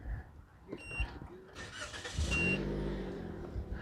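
A 2020 Toyota Vios GR-S engine cranks briefly and catches, then settles into a close, steady idle with a rising rumble.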